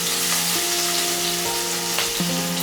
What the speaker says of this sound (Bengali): তেল গরম হয়ে গেলে আমি ওই ক্রাশ করা রসুনগুলো দিয়ে দিলাম।